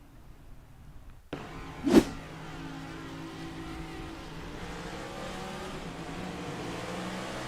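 A race car engine fires up on a restart at Phoenix Raceway in iRacing, a sharp onboard rev leading into a sustained, fairly quiet engine drone with shifting harmonic tones.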